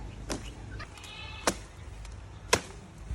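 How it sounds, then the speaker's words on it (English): Goats on a farm bleat in a few short, sharp calls spaced about a second apart, fairly close, with faint rustling and handling noises between them and no talk. "These are our goats."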